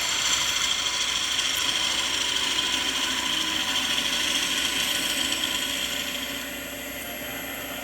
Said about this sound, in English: I've got my 1/4 inch spindle gouge here to do the recess